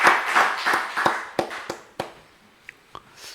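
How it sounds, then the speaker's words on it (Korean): Congregation clapping during a Sunday afternoon service at a church, a burst of hand claps that thins out into a few scattered, sharp claps trailing off to near silence. "우리 하나님께 영광의 박수 올려드리겠습니다."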